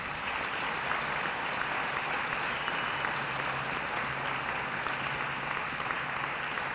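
Steady audience applause fills a university graduation ceremony hall, a dense continuous wash of clapping from a large seated crowd that holds evenly throughout without any talk over it.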